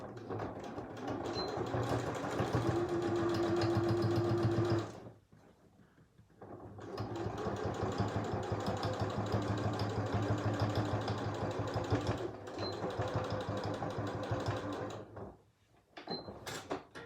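A sewing machine stitches a seam on a fabric face mask, a steady fast mechanical whir running in two long bursts with a brief pause between them and a short stop near the end, close and alone.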